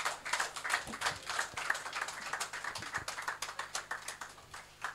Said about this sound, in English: can you welcome Stella with a round of applause?